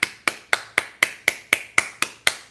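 Ten sharp hand claps in a steady, even rhythm, each a crisp close slap with a quick decay, alone with no talking.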